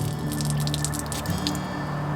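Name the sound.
water back-flushed through Sawyer Mini filter with syringe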